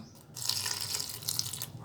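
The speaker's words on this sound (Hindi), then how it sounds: "अब हम इसमें डालेंगे थोड़ा सा पानी" A little water pours into a green chutney mixture of green chilies, mint leaves and salt, a soft steady splashing trickle lasting over a second, fairly close and quiet, with no talking.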